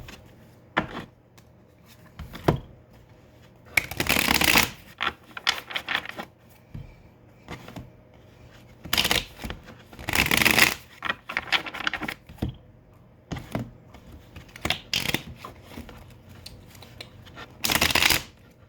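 Tarot cards being shuffled in repeated bursts of riffling and flicking, close and crisp, separated by quieter pauses and handling noises.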